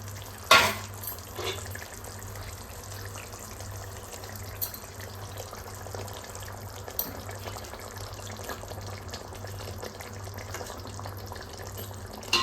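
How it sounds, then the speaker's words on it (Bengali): Pieces of fried bata fish drop into a simmering gravy, starting with a sharp clunk and splash, then a low, faint bubbling sizzle with scattered small taps of utensils. "এবার এর মধ্যে দিয়ে দেব মাছ ভাজা"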